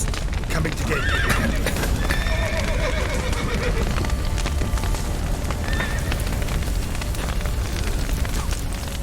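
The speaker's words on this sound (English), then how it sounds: "The horses!" Horses neigh and whinny amid the chaos of a burning scene in The Witcher 3 video game, with clip-clopping hooves, crackling fire and shouting voices mixed into a loud, dense din.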